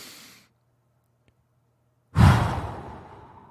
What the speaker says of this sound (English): a couple deep breaths